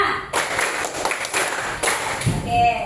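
A group claps a five-count rhythm in a clapping game, bursts of close, sharp claps starting after a brief pause, with some voices mixed in.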